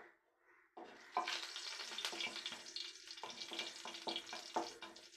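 Mustard seeds frying in hot oil in a frying pan, a steady loud crackling sizzle with sharp popping bursts throughout, starting after a brief quiet moment.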